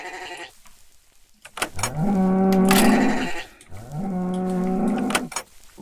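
Sheep in the Minecraft-like game MineClone2 bleat in two loud, drawn-out calls with a few short sharp clicks around them.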